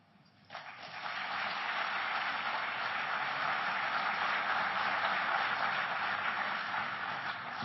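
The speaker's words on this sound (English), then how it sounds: "let's give him a round of applause for participating in this session" An audience at a forum breaks into sustained applause for the president. After a quiet half second, a dense, even wash of clapping rises and holds steady and fairly loud to the end.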